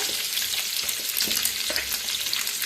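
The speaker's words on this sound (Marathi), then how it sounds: "आता फ्राय करून घ्यायचे अंडी, गॅस कमी करा" Eggs frying in a pan of masala over lowered heat, giving a steady close crackling sizzle with small pops throughout and no voices.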